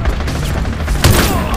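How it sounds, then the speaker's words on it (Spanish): Gunfire in The Division Resurgence video game, a rapid burst of loud shots with a heavier boom near the middle, dense and close, with a voice faintly underneath. "me lo estoy gozando aquí pegando tiros"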